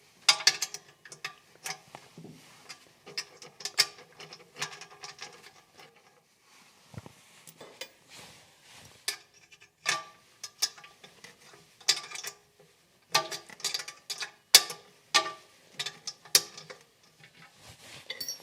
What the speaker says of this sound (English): I've got is a little wrench, and I can just loosen them bolts at the back.